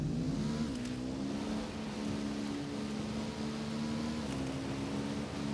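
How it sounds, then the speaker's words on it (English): A motorcycle in the video game Ghost Recon runs with a steady, droning engine tone that holds a constant pitch with slight wavering, loud and continuous, with no talk over it. "I'm riding the motorcycle."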